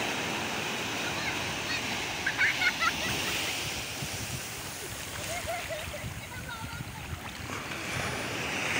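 Surf washing onto a beach in Banten, Indonesia, a steady broadband wash with wind buffeting the microphone, heard continuously throughout with faint distant sounds mixed in.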